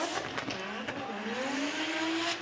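A Nissan S15 drift car at Formula Drift Japan 2024 slides at full lock, its tires squealing in a rising, sustained howl over a loud engine.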